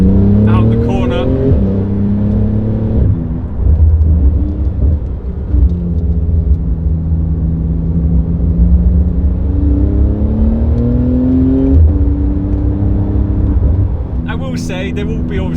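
A Porsche GT2 RS Weissach with about 700 horsepower accelerates in sustained rising engine pulls heard from inside the car, loud and close, with gear-change dips and a voice speaking over the drone.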